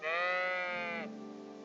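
A single sheep bleats in Kingdom Come: Deliverance II, one drawn-out, wavering nasal call about a second long that fades into a softer tail, close and clear with no talk over it.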